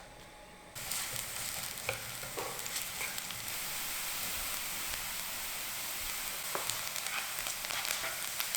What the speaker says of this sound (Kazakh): Аздап май құйып, ұсақталған пиязды қосамыз.